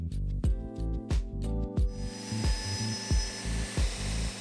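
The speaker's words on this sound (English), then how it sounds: "I'm just cutting it out of a scrap piece of MDF" A handheld Shaper Origin-style router cutting a scrap piece of MDF gives a steady high whine broken by repeated bursts of cutting as the bit bites in, close and fairly loud, with no talking.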